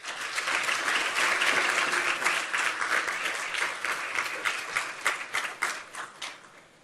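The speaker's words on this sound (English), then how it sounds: "please join me in giving them a big round of applause" A crowd applauds at a Constitution Day citizenship swearing-in ceremony held as a court proceeding. The ovation is full and sustained, then thins to scattered individual claps as it fades.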